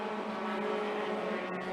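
Midget race cars run qualifying hot laps on a dirt oval, a continuous high engine drone from the pack with a faint distant quality and no clear pass-by peak.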